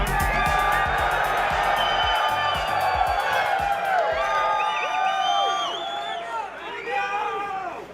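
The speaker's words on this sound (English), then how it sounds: "Where are these cheering sounds coming from?" A large crowd cheers, whoops and shouts at a Tesla robotaxi launch event, a loud, dense roar of voices and applause that stays constant before easing slightly toward the end, with scattered individual yells on top.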